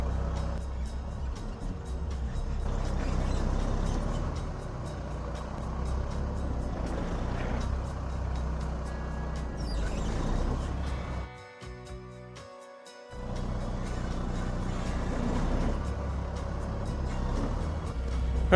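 Converted old dump truck pulling out from under a trailer in mud after the landing jacks are raised, with a steady low diesel rumble that dips briefly and then resumes at full strength, loud and close throughout.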